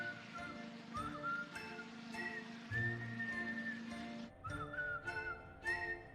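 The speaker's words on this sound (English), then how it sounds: "Oh, the whistling's back." Whistling in the video game Tesla Note: a thin melodic whistle rising and falling in short phrases over a quiet background with low hum, faint and unaccompanied by talk.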